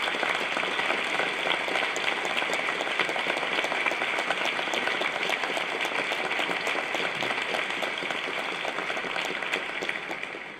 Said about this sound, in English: If you all give them a round of applause.